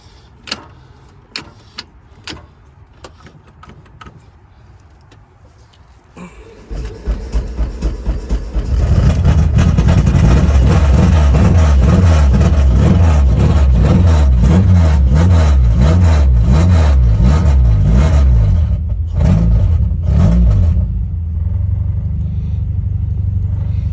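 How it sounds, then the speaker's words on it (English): Car engine starting and running during repair of a coolant leak: a few knocks and clicks, then the engine cranks and catches, settling into a loud, steady, slightly uneven rumble up close before easing toward idle. "Clean that off and start the car and see what's up"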